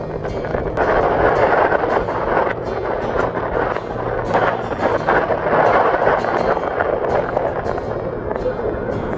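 A strong waterfall in Laguna roars as a loud, dense, unbroken rush of falling water, with gusty rumbling bursts from wind hitting the microphone.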